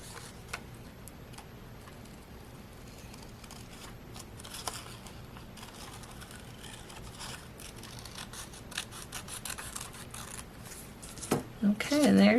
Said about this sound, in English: And we'll cut around this real quick.